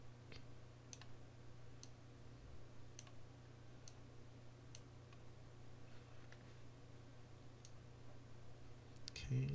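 Faint, scattered keyboard and mouse clicks from someone masking with vector paths in Photoshop, isolated sharp ticks spread over a steady low electrical hum.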